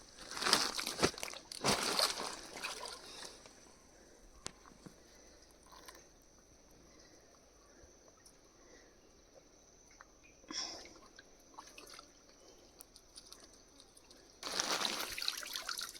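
Water splashes and trickles in bursts as freshly trapped mud crabs are washed, with loud sloshing at the start and end, faint clicks and rattles in between, and no talk.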